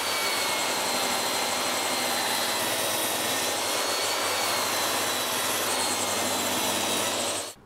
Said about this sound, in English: I'm going to cut through the maple and see how we get on with that